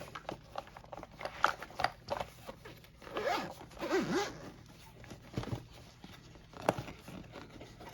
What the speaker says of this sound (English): So let me get it zipped up.